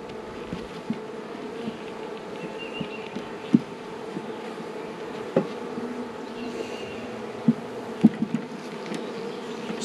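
Many honey bees buzz inside a hive of newly installed bees with wax-covered frames, a dense, steady drone close by, broken by a few faint knocks and taps from the woodwork.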